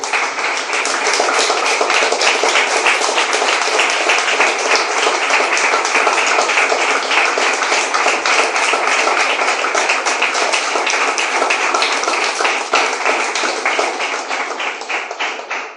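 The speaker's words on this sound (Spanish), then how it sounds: "Bríndele un fuerte aplauso." Loud, dense applause from a church congregation at a sermon, a continuous roar of many hands clapping close and steady for the full stretch before easing slightly at the end.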